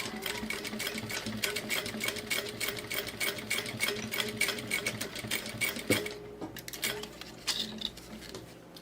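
A sewing machine runs a reinforcing seam through a felt bag in fast, even bursts of rapid needle clatter. It pauses briefly near the end, then starts again, close and clear.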